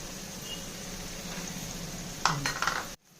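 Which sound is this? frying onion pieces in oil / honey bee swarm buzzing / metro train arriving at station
frying onion pieces in oil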